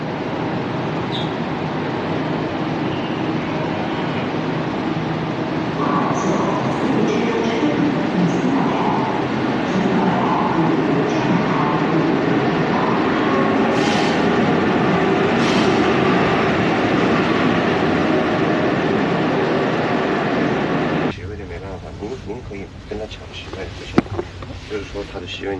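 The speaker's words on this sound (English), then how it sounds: "That train is leaving." A train pulls out of a station in India, a steady low rumble and rolling rush building gently over about twenty seconds before cutting off, with voices talking faintly over it.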